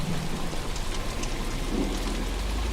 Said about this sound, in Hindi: तभी रास्ते में तेज बारिश होने लगती है।